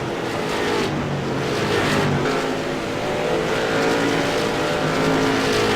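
Stock cars racing round the Lanier National Speedway oval in the CARS eSport Tour sim racing game, a dense, continuous engine roar from a pack of cars holding steady throughout.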